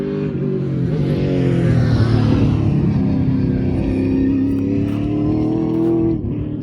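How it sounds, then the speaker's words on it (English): Race cars in a NASA event at MSR Cresent roar past at close range, a loud continuous engine drone that swells and shifts pitch as the cars go by, with no talking over it. "We got race cars coming by."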